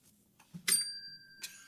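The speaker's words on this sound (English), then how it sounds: "Ring that bell. Nice ring." A small bell on a table during a Magic: the Gathering Commander game, struck once with a bright, sustained ring that fades. A shorter ding follows, with soft background handling before it.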